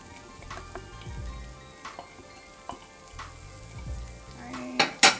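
Chopped onions hit a hot pan and sizzle for pepper popper filling, a crackling fry with scattered utensil clicks and scraping stirs, louder taps near the end.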